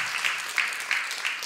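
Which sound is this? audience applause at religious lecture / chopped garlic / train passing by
audience applause at religious lecture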